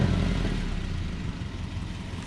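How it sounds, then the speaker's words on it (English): A 2011 Subaru Legacy Limited AWD engine idles steadily with a slight exhaust leak, giving a close, continuous low rumble that stays even throughout, with no talking over it. "Maybe a slight exhaust leak"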